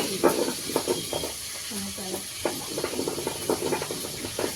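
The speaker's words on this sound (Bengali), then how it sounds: "তেলাপিয়া মাছ ভাজা হচ্ছে" Tilapia fish frying in oil, a hissing sizzle running under a voice that talks over much of it.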